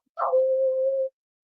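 A voice imitates a werewolf howling at the moon with a single sustained, steady howl of about a second, close and fairly loud, with no other sound around it.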